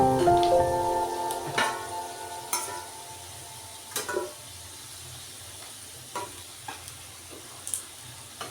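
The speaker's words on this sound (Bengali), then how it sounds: "তাহলে আমি আলুটা ভেজে নিয়ে ফেরত আসছি" Oil sizzles steadily in a pan as potatoes fry, with occasional sharp clinks and scrapes of stirring scattered through the frying.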